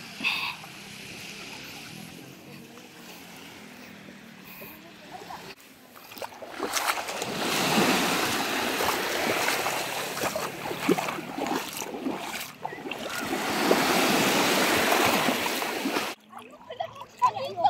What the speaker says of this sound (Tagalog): Ito tayo sa dagat.